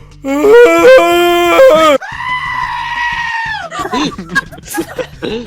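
A voice imitates a cow approaching and sniffing a ladder in a livestock building, drawing out loud, moaning moos in two long calls, followed by softer, broken vocal sounds.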